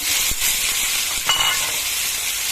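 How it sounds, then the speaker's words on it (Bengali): Grated beetroot sizzling in a pan with dried grated coconut, a steady bright frying hiss throughout with a few soft stirring knocks, close and alone without talk. "এবার আমি গ্রেট করা বিটটা এর মধ্যে দিয়ে দিলাম"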